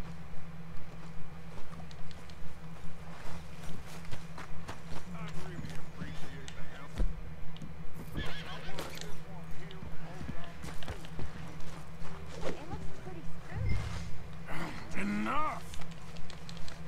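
Horse hooves clip-clop at a steady, even trot in Red Dead Redemption 2, a regular rhythm running throughout, with game dialogue and other voices talking over it.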